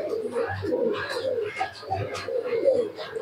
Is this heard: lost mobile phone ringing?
no